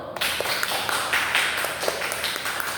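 Classmates clap for a student in a classroom, a short burst of scattered, moderately close applause with uneven taps rather than a dense roar.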